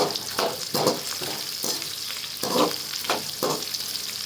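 Cashews frying in a pan for Navane bisibele bath, a millet dish, sizzle steadily while a spoon stirs them in quick, regular scraping strokes close to the microphone, with no voices.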